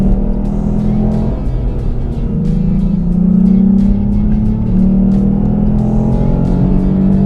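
A Lexus IS250 with its V6 engine pulls hard under acceleration, its steady roar climbing through paddle-shifted gears with brief dips at each change, close and loud from inside the cabin with no talk.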